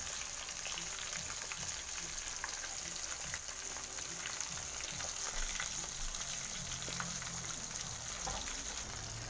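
Tilapia fish frying in oil hisses steadily and sizzles quietly, with small pops and occasional stirring or scraping noises underneath, close by and without talk.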